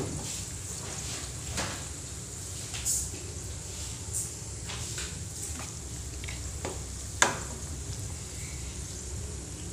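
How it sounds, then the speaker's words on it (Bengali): Snack pieces fry in oil over a low flame, a steady soft sizzle running throughout with a few small pops and one sharp clink near the end; no one speaks. "একদম লো ফ্লেমে ভাজবো, তখন ভিতরটা খুব বেশি ক্রিস্পি হইব।"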